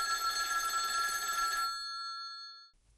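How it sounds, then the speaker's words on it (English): Telephone bell ringing at night, a bright metallic ring that sounds for about a second and a half, then rings out and fades. It is heard alone, close and clear. "The phone rang again the next night."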